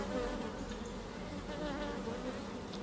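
Honeybees from a populous colony buzzing densely at the hive, a continuous close hum with many overlapping wingbeats and no voices.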